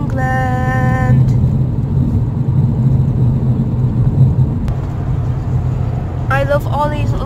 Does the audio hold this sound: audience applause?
no